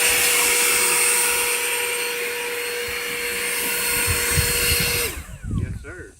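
ATLAS electric backpack leaf blower running on turbo, a loud steady high-pitched whine and rushing air held for about five seconds before spinning down abruptly, with brief voices after it stops.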